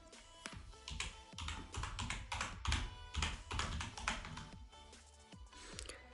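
Text is typed on a computer keyboard in rapid, close bursts of crisp key clicks, with short pauses between runs and no voices.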